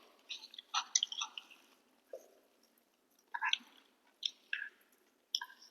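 Soft close-up chewing of rice and lentil dal, with wet, squishy mouth sounds in short irregular bursts separated by quiet pauses, faint and intimate.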